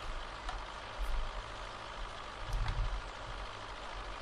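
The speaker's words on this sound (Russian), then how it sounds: "запускаем комбайн, запускаем жатку" A combine harvester and its header run in Farming Simulator 17, giving a steady, low mechanical engine drone with faint knocks, heard alone without talk.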